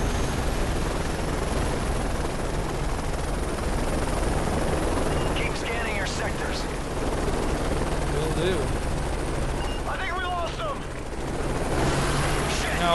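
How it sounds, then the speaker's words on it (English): Helicopter in the video game Modern Warfare 3, a loud, constant rotor roar filling the scene, with faint chirps and bursts of game noise on top and no clear speech. "Everybody's got a helicopter these days."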